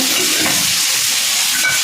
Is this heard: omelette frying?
yes